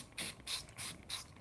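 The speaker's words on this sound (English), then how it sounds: "give it a spray here as well" A handheld spray bottle of cleaner spritzes four times in quick succession, each a short, close, airy hiss with brief pauses between.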